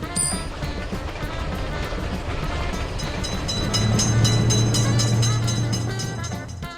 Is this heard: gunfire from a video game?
no